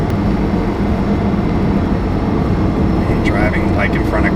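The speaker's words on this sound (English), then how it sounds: "Jesus Christ, this exhaust. The downshift is nasty," A car's exhaust roars loudly and continuously through a hard downshift, a dense rumbling drone with a rising rev flare near the end.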